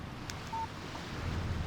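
A phone text message alert in the Alan Wake video game: one short electronic tone near the start, a brief chirp over a low windy ambient background.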